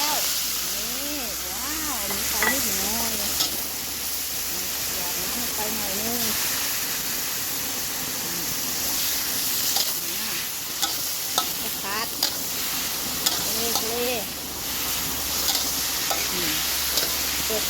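Vegetables are stir-fried hard in a hot pan for a duck noodle dish, with a loud, constant sizzle and hiss broken by repeated clanks and scrapes of the spatula while a voice talks over the cooking.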